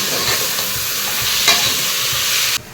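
Onions, green chillies and chopped tomatoes sauté in a pan, giving a loud, steady sizzle with a few soft stirring scrapes, and no voices.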